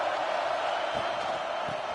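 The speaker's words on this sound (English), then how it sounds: "this crowd trying to help keep them there" Stadium crowd in College Football 26 roaring steadily as a broad, sustained wash of cheering during a game, moderately loud and continuous without clear peaks.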